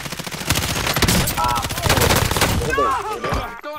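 Rapid automatic gunfire and single shots crackle through a Call of Duty: Modern Warfare match, loud bursts in quick succession with players talking over the shooting.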